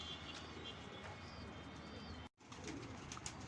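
Pigeon near a rooftop, heard as faint soft cooing and flutters over a steady outdoor wash of ambient noise, with a brief dropout partway through.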